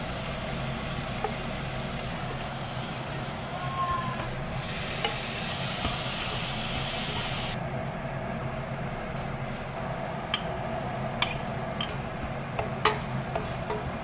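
Pork sautéing in a pan for binagoongan, a steady loud sizzle with occasional clicks and scrapes of stirring, no voices.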